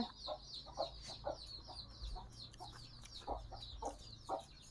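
Soft, repeated clucking of a hen in short bursts, fairly faint, with other birds chirping in the background.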